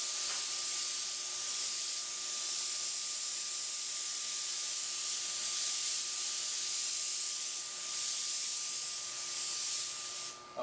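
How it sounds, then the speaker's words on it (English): An airbrush spraying black paint for a drop shadow gives a continuous close hiss that holds steady for about ten seconds, with a faint constant tone beneath. "Now we got black and airbrush, and I'm going to do a drop shadow under it to give it a 3D look."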